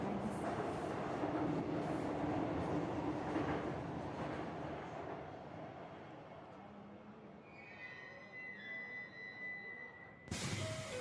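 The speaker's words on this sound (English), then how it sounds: "The train will be arriving shortly" A train in Persona 5 Phantom X rolls into a station with a loud, steady rumble and rush of wheels that gradually eases. High squealing tones rise near the end before an abrupt louder burst.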